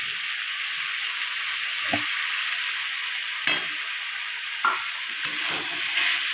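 Boiled chickpeas with turmeric are stirred in a hot pan, a continuous soft sizzle broken by a few sharp spoon knocks and scrapes, with no one talking.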